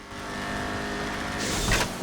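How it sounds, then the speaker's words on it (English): An Imponte Deluxo car engine in Grand Theft Auto V hums steadily with a harsh, buzzing drone, swelling briefly louder near the end. "It does sound like it has a mean engine."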